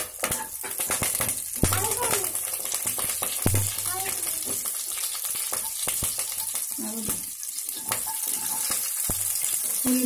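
Mustard seeds, cumin, urad dal and curry leaves fry in a few spoons of hot oil for a radish and brinjal curry, with steady sizzling, sharp pops and a few clinks of stirring while a voice talks over it.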